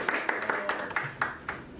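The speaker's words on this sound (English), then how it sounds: "let's give an applause for him to start" A small audience gathered for a talk on hydrogen water gives a sparse round of clapping, a handful of distinct, fairly close claps spaced irregularly over a couple of seconds.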